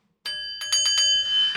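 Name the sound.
bell being rung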